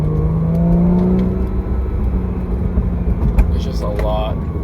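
Porsche 981 with a Becker S type exhaust holding a steady idle and light revs nearby, a fairly quiet, even drone while someone talks over it.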